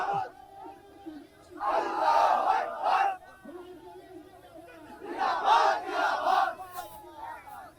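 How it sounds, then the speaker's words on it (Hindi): A crowd on National Highway 12 in the Beldanga area of Murshidabad chants slogans, including Takbir calls. There are two loud collective bursts, each about two seconds long, and a lone leading voice is heard faintly between them. "आप देखिए नारे भी लग रहे हैं, नारे तकबीर भी लग रहे हैं"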